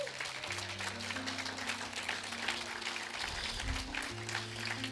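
A church congregation applauds in a steady, fairly faint wash of clapping beneath sustained music during a worship service.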